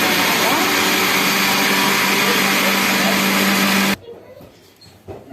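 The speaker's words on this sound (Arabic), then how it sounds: "بعد ما ضربنا الخليط كويس مع بعض في الخلاط" An electric mixer runs steadily at high speed for about four seconds, beating cupcake batter made with eggs and a spoonful of vinegar, then cuts off abruptly, leaving quiet kitchen room noise.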